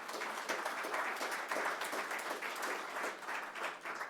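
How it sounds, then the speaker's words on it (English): A crowd applauds steadily at an official announcement of an $860 million investment in Rock Creek Industrial Park by Food Lion's parent company, a thick, continuous wash of clapping throughout. "Let's give them a round of applause for considering us."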